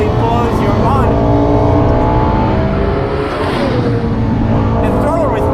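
A Lexus LFA's 4.8-litre naturally aspirated V10 built by Yamaha accelerates hard, its loud high-pitched wail rising and dropping through rapid gear changes, close and continuous throughout.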